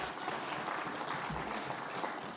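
An audience at a Vancouver ministerial event applauds in a soft, distant, continuous wash of clapping that is fairly faint.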